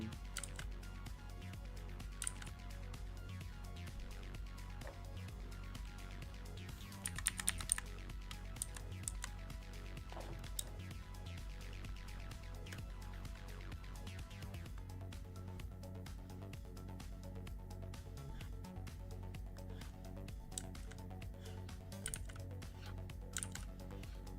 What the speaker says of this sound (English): you guys can hear my keyboard